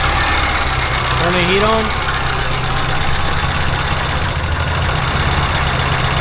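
An 800+ horsepower Subaru Impreza STi engine idles steadily and loud after its first startup on an unfinished tune, a low constant drone with an uneven edge, while a person speaks briefly over it.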